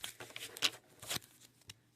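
Tarot cards being shuffled by hand in a few quick, soft riffling bursts, close and fairly quiet, with no talking.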